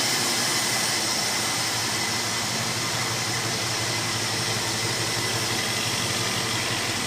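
A 1965 Ford Mustang with a 289 V8 idles steadily on a freshly installed carburetor, a continuous close, fairly loud engine rumble with a broad hiss and no pauses or revving, heard alone without talk.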